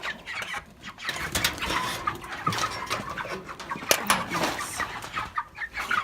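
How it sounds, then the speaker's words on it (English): Meat chickens clucking in a coop on a snowy April morning, a busy flock of overlapping clucks and squawks at close range, steady throughout with no talk. "See how the meat birds are doing."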